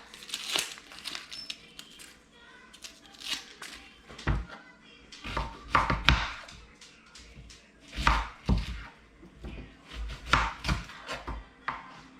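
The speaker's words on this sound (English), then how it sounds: "Gotta get an onion chopped up." Rapid knife chops through an onion on a board, close and fairly loud, come in uneven bursts with brief pauses and faint background voices.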